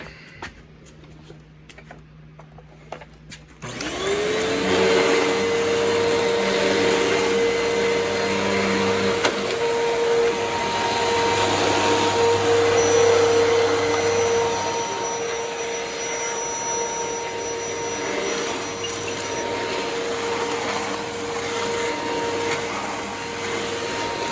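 A Hoover Commercial Task Vac bagless vacuum cleaner with a newly replaced cord switches on after a few quiet clicks, its motor whining up and settling into a loud, steady roar with a high tonal whine that continues to the end.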